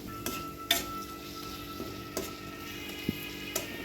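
Green chilli and garlic sauté in a pan with a soft sizzle, broken by sharp, irregular clicks of a utensil stirring against the metal.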